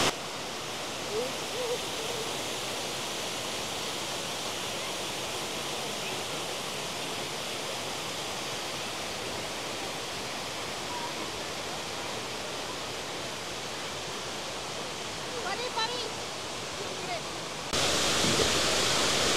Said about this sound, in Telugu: బాగుంది కదా వాటర్ఫాల్ ఇది మంచి హైట్ నుంచి పడుతున్నాయి వాటర్ కూడా